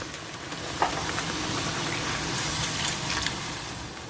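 Red curry paste stir-fried in a pan for a sweet curry with catfish, giving a steady, fairly loud sizzle throughout with one brief clink near the start; no talking.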